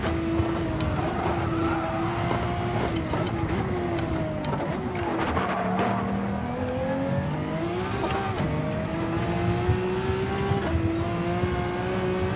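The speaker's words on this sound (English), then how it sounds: "What a big oversteer." Race car in Gran Turismo 7 oversteering, engine droning loudly with shifting pitch and tire squeal layered over it, continuous game audio without talk.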